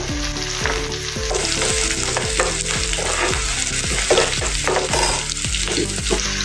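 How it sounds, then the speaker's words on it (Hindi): Loud, steady sizzling of green chillies frying in hot oil, with occasional scraping and stirring sounds throughout. "और साथ में हरी मिर्च भी इसमें डाल देंगे। दो मिनट इसको हम तलेंगे।"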